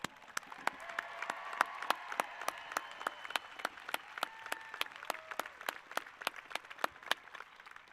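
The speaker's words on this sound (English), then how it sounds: "Let's give them one more round of applause" Sparse, fairly faint applause at a high school graduation ceremony, individual claps spaced out at a steady rhythm over a quiet background with a few low voices.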